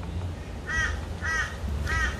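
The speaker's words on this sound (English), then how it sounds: "Can you hear the crows in the background?" Three harsh crow caws come at an even pace about half a second apart, fairly faint and somewhat distant over a low rumbling background, with no one speaking.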